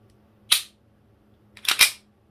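An Army Custom 4.3 Hi-Capa airsoft pistol gives sharp, close mechanical clicks from its trigger pull, one crisp snap followed by a quick double click a second later, with no talking.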